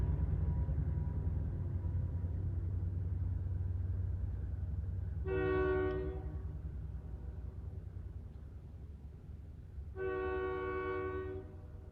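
A train rumbles past steadily with a low continuous roar, its horn sounding twice in two sustained blasts several seconds apart, moderately distant.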